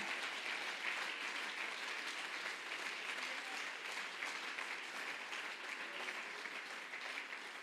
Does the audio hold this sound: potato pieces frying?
no